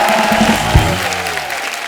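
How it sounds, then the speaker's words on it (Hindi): Studio audience at a Hindi comedy talk show breaking into loud, dense applause, with a shout and a brief voice cutting through the clapping before it settles into a steady patter. "खैर हमारे स्टार लोग के लिए जोरदार ताली।"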